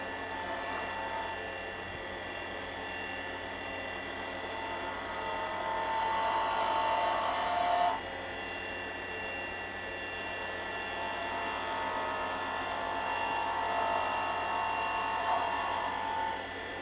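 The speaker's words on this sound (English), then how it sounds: "I'm going to come in with a bowl gouge and just match this up right here" Wood lathe spinning a tailstock handle for a mini or midi lathe while a bowl gouge cuts it, giving a steady, loud, continuous whine and hiss that swells slightly midway, with no talking.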